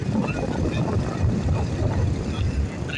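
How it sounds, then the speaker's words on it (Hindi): A Massey Ferguson 240 tractor engine runs steadily at a farm during potato planting, giving a continuous low rumbling drone at an even level with no talk. "मैसी फर्गूसन 240 ट्रैक्टर है"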